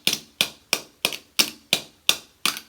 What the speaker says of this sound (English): you will keep it down and then you will hammer it